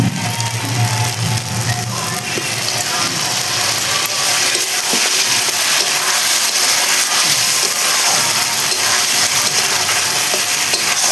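Potatoes sautéing with spices in oil in a pan, a loud continuous sizzle with occasional scraping stirs, close up and without talk.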